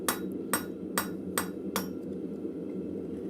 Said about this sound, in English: I'm going to use the ball peen side of this to start upsetting